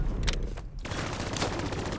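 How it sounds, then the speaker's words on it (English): Hostile sentry gun in Call of Duty: Black Ops III firing sustained automatic bursts, dense and loud, with a continuous crackle of gunfire throughout the short stretch. "Hostile sentry suppressing"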